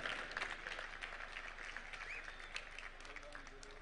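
A large crowd applauds steadily at a Mashujaa Day celebration in a stadium in Kitui, Kenya. The dense, even clapping lasts the whole moment and sounds somewhat distant, as if heard over a public address feed.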